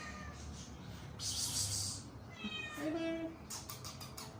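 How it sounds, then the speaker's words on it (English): A small house cat gives a single clear meow partway through, standing out over a quiet indoor background with faint rustling and other noises. "Got my gatito there. Little cat."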